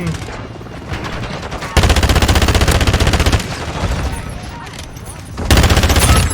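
Call of Duty: Modern Warfare II gunfire, loud bursts of rapid automatic shots in two long stretches separated by quieter scattered fire, with bits of voice chat underneath.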